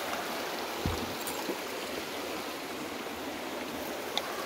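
A river flows steadily, rushing continuously in a broad even wash close by with a faint click or two and no voices.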